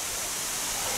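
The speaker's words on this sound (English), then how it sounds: "I could quite happily stand here all day and just watch that waterfall." Steady rushing roar of a waterfall in Stand Wood at Chatsworth in the Peak District, a dense, even wash of falling water that stays constant and fairly loud throughout, with no voices.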